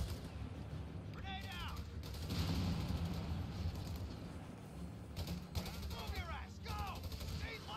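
Distant gunfire crackles in a Company of Heroes 3 Italian campaign battle, rapid mechanical machine-gun bursts sitting low under a steady ambient rumble, with a few sharper clusters of shots.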